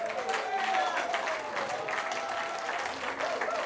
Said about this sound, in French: C'est important d'applaudir ces dons, c'est très important.